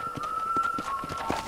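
Hoofbeats from a horse in the Red Dead Redemption video game thud at an even pace, moderately near, over a thin steady whistle-like tone; no whinny stands out.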